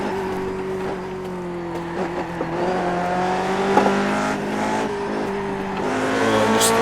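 A Lotus 49 race car engine drones steadily in the iRacing simulator as the car descends a roller coaster section of track. The engine note holds loud and close with shifting pitch, and faint tire noise rises toward the end.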